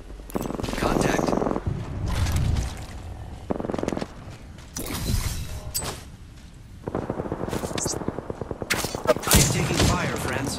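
Video game gunfire rattles in repeated bursts, including rapid automatic strings and heavier single blasts. The shots are loud and close, with pauses between volleys.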